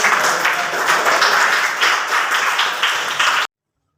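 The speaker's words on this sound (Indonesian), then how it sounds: "Tepuk tangan untuk teman kalian." Students in a classroom clap for their classmates in a dense, close burst of applause lasting about three and a half seconds, then stopping abruptly into silence.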